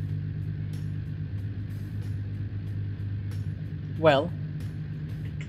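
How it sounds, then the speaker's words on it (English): A 1978 Pikes Peak gravel rally car idles with a steady low exhaust drone throughout, under brief talk and a short voice near the end. "judging by the noises coming out of the exhaust, yeah, you definitely know what kind of an engine this thing is"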